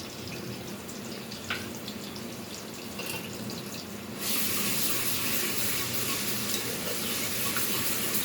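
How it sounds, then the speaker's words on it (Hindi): Ghee heats in a pan for a cauliflower chicken curry with a steady fizzing sizzle, then ginger garlic paste drops in and the sizzle jumps to a loud, dense hiss that continues to the end. "अब ये घी गर्म होने लग गया है, ये देखिए इसमें से आवाज़ आ रही है।"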